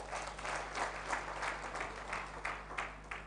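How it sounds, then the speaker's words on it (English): A crowd at a university challenge closing ceremony claps for the judges, a fairly soft, continuous patter of applause lasting a few seconds with a low steady hum underneath. "Please, a round of applause to them."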